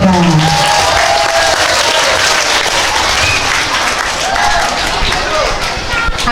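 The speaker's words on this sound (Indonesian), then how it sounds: "tepuk tangan untuk yang putra" Loud, sustained applause for the boys' group fills a hall at an Islamic school festival in Tebo, Jambi, with many hands clapping steadily and crowd voices mixed in underneath.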